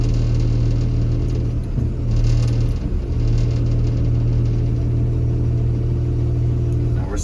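A KSF 940 ballast regulator, a railway track maintenance machine with travel problems, idles steadily at about 800 RPM, its diesel engine giving a loud, constant low rumble close by with no talking.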